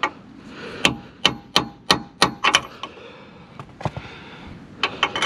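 A series of sharp metallic hammer strikes driving a bolt through on a Ford Fiesta, some in quick pairs, ringing out fairly close with short pauses between blows and no talking.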